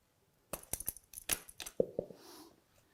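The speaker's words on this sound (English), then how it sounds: "This type of connector just pulls straight out" Electrical connectors being unplugged from the wash motor of a GE dishwasher: a few sharp plastic clicks and small rattles packed into about two seconds, close by in a quiet room.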